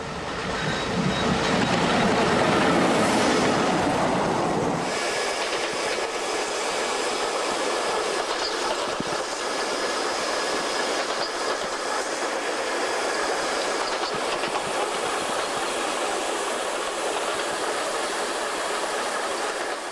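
A brown-painted Ötscherbär train on the Mariazell narrow-gauge railway in Austria runs along the tracks in a continuous loud rumble, heaviest at the start and then settling into a steady roar for the rest.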